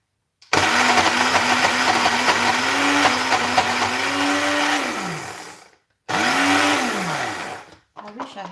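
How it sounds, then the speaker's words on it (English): A kitchen blender whirs loudly as it purees green curry paste, running in one long burst with rising and falling pitch, then a shorter second burst after a brief stop. "I wish I have a better blender."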